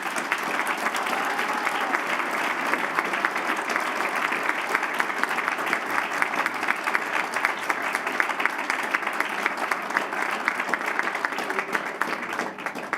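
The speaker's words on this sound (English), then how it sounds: "please give a big round of applause to our President's Award recipient, Paloma Michel" Sustained audience applause at a school district board meeting honoring an award recipient, a dense, steady round of many hands clapping at even volume, continuing unbroken for a long stretch with faint crowd murmur beneath.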